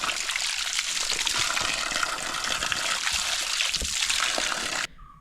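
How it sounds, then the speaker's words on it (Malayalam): Clear water pours steadily from a cut bamboo pipe on a mountain trail, with a close, loud, unbroken rush that stops abruptly near the end. "ഇല്ലി വെട്ടിയിട്ട് ഓസിന് പകരം നല്ല പറയാ തെളിഞ്ഞ വെള്ളം"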